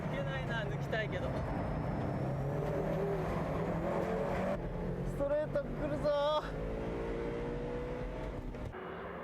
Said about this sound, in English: The Advan rally car taking advantage, pressuring the RS from behind.